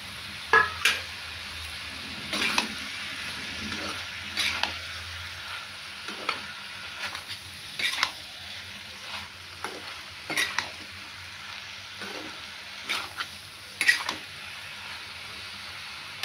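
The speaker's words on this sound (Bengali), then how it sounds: "প্রথমে আলুটা দিয়েছি মশলার সাথে কষার পরে।" Potatoes frying with spices in a pan for a Bengali aloo kudri posto dish, heard as a soft, low sizzle broken by irregular scrapes and clinks of stirring, close but fairly quiet, with no one talking.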